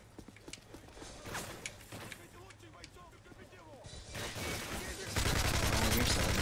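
Gunfire in Call of Duty: Modern Warfare 3, with scattered shots and bursts that build into dense, loud, sustained firing near the end, alongside game mechanisms and some voice activity.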